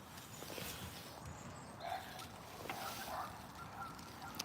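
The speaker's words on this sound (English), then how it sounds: "You hear the dogs." Faint, distant dog barks carry across an outdoor hiking trail, a few scattered yelps rising only slightly above a steady background hush.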